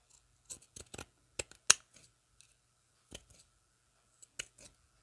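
Scissors snip through a paper label for a junk journal in a handful of quick, crisp cuts: a short cluster near the start, one sharp snip, then scattered single cuts with quiet gaps between.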